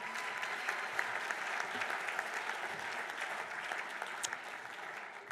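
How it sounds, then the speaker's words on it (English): A hall of fame ceremony audience applauds a football coach, with sustained crowd clapping heard alone and evenly for several seconds, fading slightly at the end. "How about a big round of applause for Coach Nick?"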